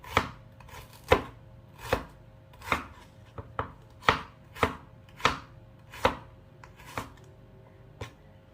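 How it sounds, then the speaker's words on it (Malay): A knife slices shallots on a cutting board for a Malaysian Indian-style fish curry, striking about a dozen crisp chops in an uneven but steady rhythm, close and clear with no talking. "Setelah habis kita hiris bawang merah, kemudian kita hiris bawang putih pula ya."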